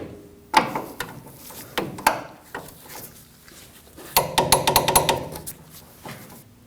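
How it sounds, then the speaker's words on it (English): A torque wrench tightens suspension nuts on a 2009-2014 Ford F-150 front end: a few sharp metallic clicks, then a quick run of ratcheting clicks, close and fairly loud. "We can torque the nut for the upper control arm to the knuckle to 85 foot-pounds."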